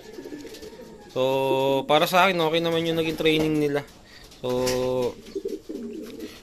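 Racing pigeons coo during a training session in Tanay, Rizal, with several clear, close, throaty coos in short bursts, and someone speaks briefly in between.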